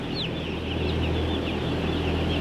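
A flock of chickens in a poultry house clucks continuously, a dense steady chatter of many birds with occasional higher calls rising above it, and no talk.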